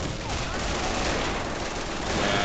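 A German MG34 machine gun fires in the Call of Duty first-person shooter, a dense continuous burst of rapid shots filling the whole stretch, loud and close.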